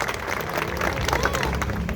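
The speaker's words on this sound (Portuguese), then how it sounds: "Eu quero aqui, primeiramente, pedir uma salva de palmas para o nosso Deus" A crowd claps steadily throughout at the inauguration of a city square in Manaus, a dense close patter of applause with voices mixed in.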